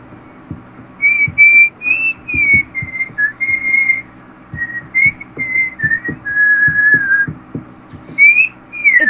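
A person whistles a wandering tune, the notes sounding warped and twisted as they come through voice chat during a MineZ game session, with steady low clicking and hum underneath throughout.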